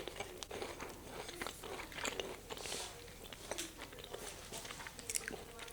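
Someone bites into a homemade treat that is crunchy outside and chewy inside, giving repeated close, crisp crunches and chewing sounds in an irregular rhythm with no talking.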